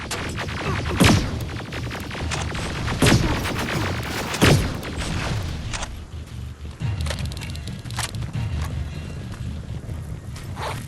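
Gunfire in the video game Terminator Resistance, with heavy booming shots at irregular intervals over a dense, rumbling battle backdrop. No voices are heard.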